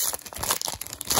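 Packs of Score hockey cards from a mystery tin are torn open, giving a brief burst of close crinkling and ripping foil wrapper.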